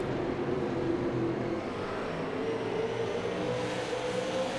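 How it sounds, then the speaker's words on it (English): A field of dirt late model cars circles the Oxford oval, engines droning loudly and continuously, with a slow pitch shift as the pack passes, no voices. "All these cars rolling on the bottom, trying to get some momentum."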